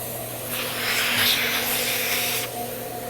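A sanitizer sprayer hisses steadily in a close, continuous spray that swells and eases slightly over a few seconds, with a low motor hum underneath.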